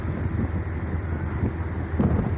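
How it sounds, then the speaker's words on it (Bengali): Motor vessel Taranga 7 running at high speed, a steady loud rumble of engine and rushing water with heavy wind buffeting the microphone throughout, no voices. "দেখছেন অনেক স্পিডে চলতে আছে তরঙ্গ ছেলে"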